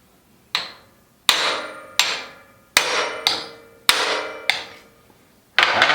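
A hammer strikes a small chisel driven in to split a stuck part free near a tube on a cargo bike, giving seven sharp, loud metallic blows in an uneven rhythm, each ringing briefly before the next.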